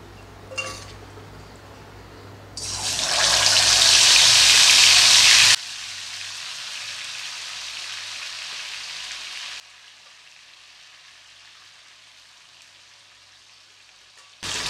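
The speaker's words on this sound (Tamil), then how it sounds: "ஒரு அடுப்பில் சிக்கனை பொரிக்கிறதுக்கு எண்ணெய் ஊற்றி வச்சுருக்கேன்" Chicken pieces deep-frying in a pan of hot oil on a stove burner, a loud dense sizzle that swells for a few seconds, then settles to a softer steady crackle and fades to a quiet hiss.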